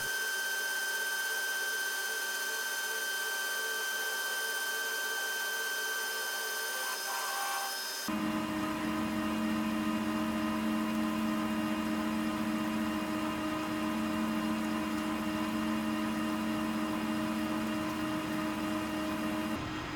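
A metal lathe turns the shank of an oversized gear blank, its steady broadband machining noise starting partway through and running continuously to the end, with a few sustained tonal whines.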